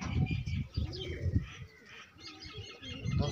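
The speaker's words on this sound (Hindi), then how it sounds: "कबूतर भी दिखाता हूँ आप लोगों को अपने" Pigeons kept as pets coo in soft, rounded bursts, mixed with a few faint chirps and a brief flutter of wings, all close by.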